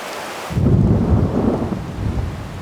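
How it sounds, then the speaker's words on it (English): Heavy rain with rolling thunder in Bali at the end of the rainy season, a loud low rumble swelling in after a half-second of steady rain and continuing under the downpour. "We're at the end of the rainy season, which is why it's raining today"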